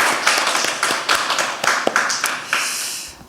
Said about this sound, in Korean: 저희 다 같이 박수 치시면서 환영하는 시간 됐어요.